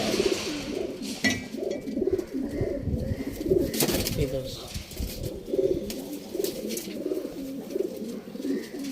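Pigeons coo in a repeated, rhythmic rolling pattern, fairly close and moderately loud, with a few sharper bird sounds and faint background noise mixed in.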